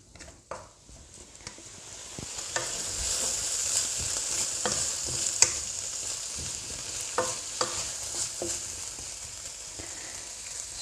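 Carrots, onion and pepper stir-fry in a pan with a steady bright sizzle, broken by frequent clicking stirs and scrapes of a utensil, close up and continuous for several seconds with no voices.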